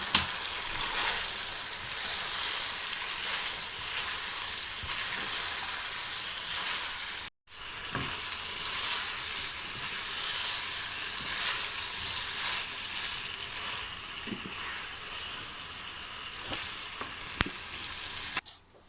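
Fried potatoes tossed in a hot pan for potato chillies sizzle and crackle steadily and loudly, with a brief break partway and a few stirring knocks near the end.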